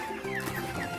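Broiler chickens being fed corn give a quick burst of clucks and chirps close by, several birds overlapping within a single second.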